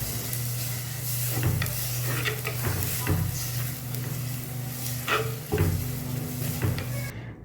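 Spice powders and garam masala being sautéed in a pan for a Kerala-style egg curry, with a soft constant sizzle, a low hum underneath and repeated scraping stirs and clinks of a spoon against the pan.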